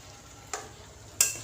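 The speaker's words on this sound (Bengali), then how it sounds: "শেষে জলটা দিয়ে দিচ্ছি। আর একটু নাড়াচাড়া করে দিচ্ছি।" Tandoori chicken stirred in a pan just after water goes in, a soft simmering hiss broken by two quick spatula scrapes against the pan.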